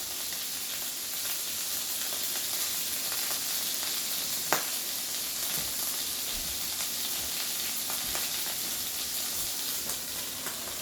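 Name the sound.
chopped cheese sandwich filling sizzling in the pan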